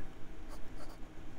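A 1938 Parker Vacumatic fountain pen in green pearl celluloid with a 14 karat gold nib writes on Clairefontaine 90 gsm paper, giving soft, close scratchy strokes in short bursts against quiet room noise.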